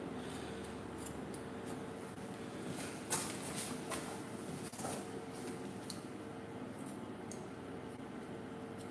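Scissors slice-cut hair during a pixie haircut, soft close snips and sliding cuts scattered over a steady hiss of room noise, with a few sharper clicks.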